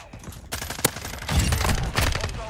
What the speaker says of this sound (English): Mortar strike on their spawn.